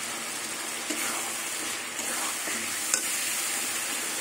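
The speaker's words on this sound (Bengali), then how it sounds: "এবার সব কিছু দিয়ে একটু কষিয়ে নেবো।" Spices and fish frying for a bhetki fish curry in a pan, a steady broad sizzle with intermittent stirring scrapes, close and fairly loud, no voices.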